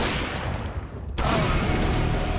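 Loud, dense gunfire from the video game CS:GO fills the clip, a continuous rattle of shots that dips briefly, then surges back even harder near the middle, sitting up close with little room between bursts.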